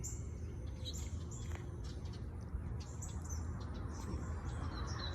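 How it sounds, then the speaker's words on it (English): A finch perched on a garden roof in July chirps in short, high bright calls scattered through the clip, moderately faint over steady background hum. "There's a finch up there"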